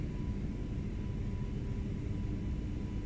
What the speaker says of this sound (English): Let me turn down X-Plane a little bit more so we can hear the MD-80 sounds